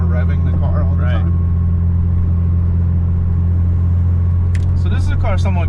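A 1977 Porsche 911 RSR tribute with a G50 transmission cruises in fifth gear through town, its engine a steady low drone heard from inside the car, with someone talking over it at the start and end.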